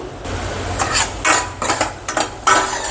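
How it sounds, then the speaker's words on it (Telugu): Peanuts are fried and stirred in a pan for curry leaf powder, giving a close, steady sizzle broken by several rattling, scraping strokes of a spoon against the pan. "పల్లీలు త్వరగా వేగవు కనుక ఈ ఫస్ట్ వేపి వేపిస్తున్నాను"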